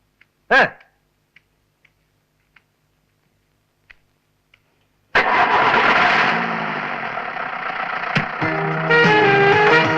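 A vehicle engine cranks and catches after a few faint clicks, then settles into a steady, loud running drone.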